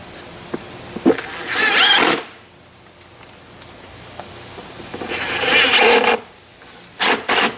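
Screws driven in with a power tool while reinstalling a rear A/C evaporator cover in a Chrysler Town & Country: two close bursts of whirring driving, each a second or so long, followed by short quick zips near the end.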